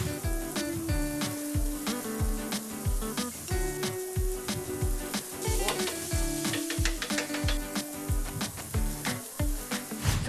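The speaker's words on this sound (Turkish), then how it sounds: "Bunun yanında domates ve biber de pişiriyoruz ve bir soğan kavurmamız var" Tomatoes and peppers roasting over hot embers beside çöp şiş skewers, giving a steady crackling sizzle with dense popping and clicking throughout, fairly close and even in loudness, with no talk.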